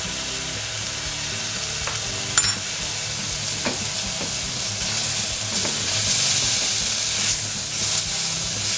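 Black pepper, cumin and sweet paprika toasting in a hot pan as they are stirred, a steady close sizzle with occasional utensil clicks and scrapes, with no talking.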